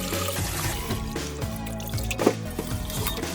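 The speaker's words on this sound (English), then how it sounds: "once or twice in cold water" Bean sprouts rinsed in cold water in a kitchen, heard as continuous sloshing, trickling and dribbling water with soft handling sounds, fairly close and steady throughout, mixed with background music and no clear talk.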